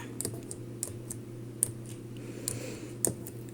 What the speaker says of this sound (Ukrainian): переключаємо розкладку клавіатури на англійську мову і вводимо адресу